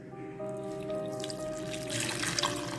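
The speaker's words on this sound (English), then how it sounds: "So I'm adding in my water now" Water pours steadily into a pot while a juice recipe is being prepared, giving a soft, continuous trickle and splash close by at low volume.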